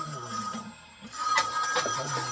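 A telephone rings in a comic toy-figure skit, its bell tone fairly faint and steady under a low background hum, with a brief dip in the middle.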